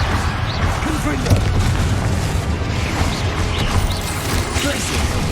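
Fiery Confringo spell blasts in Hogwarts Legacy, a dense wash of booming, rumbling explosion noise that stays loud and continuous throughout, with crackling bursts layered over heavy low-end impact.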